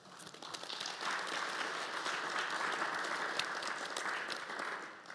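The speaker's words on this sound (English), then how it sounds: "maybe a round of applause to all of us for having taken the time to be here" Audience at a business forum investor roundtable breaks into steady, even applause from many hands, moderately distant, lasting a few seconds before tapering off.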